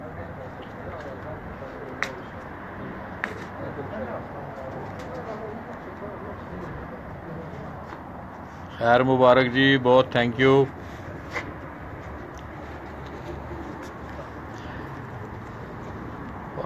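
A female Teddy pigeon on a rooftop gives a short burst of pulsing coos midway, set against steady background noise, with people talking before and after.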